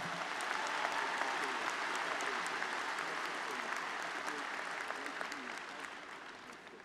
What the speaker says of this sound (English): Let's have another big round of applause for Senator Chuck Schumer.